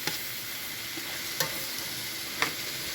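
Pad thai with shrimp stirred and frying in stainless steel pans, a low steady sizzle with a few sharp scraping clacks of a utensil against the metal, close and alone.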